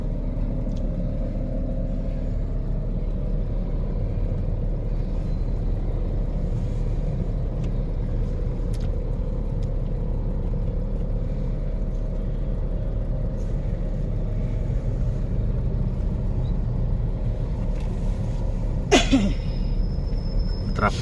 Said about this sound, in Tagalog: Traffic kasi umulan-ulan.